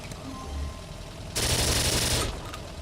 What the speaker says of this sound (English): Guess we are supposed to shoot this guy now.